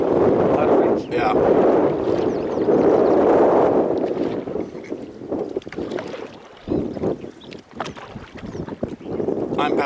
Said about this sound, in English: I'm paddling now, Lionel's on it.